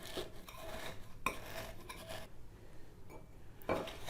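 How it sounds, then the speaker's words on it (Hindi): Mint leaves, lemon and sugar being mashed and stirred together for a mint-lemon drink, with soft scraping, clinking utensil taps against the container and a few sharper knocks, close up and fairly quiet. "इन सब चीज़ों को अच्छी तरह से मिक्स कर लेंगे।"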